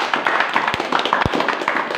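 A church congregation claps together in praise to God. Brisk, rhythmic hand clapping sounds close and lively, with a couple of heavier thumps mixed in.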